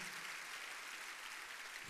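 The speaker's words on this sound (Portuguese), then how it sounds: "Vamos aplaudir, gente, a turma lá em Campo Belo." Church congregation at a large worship gathering applauding, a soft, even, distant wash of many hands clapping that holds steady throughout without talk.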